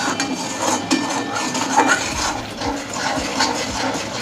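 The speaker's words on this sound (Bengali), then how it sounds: "এবার আমি মশলাটাকে ভালোভাবে কষিয়ে নেব।" Spice paste with salt and turmeric is stirred and sautéed in a pan, a soft continuous sizzle with light scraping and clinks of the spoon against the metal, close and steady.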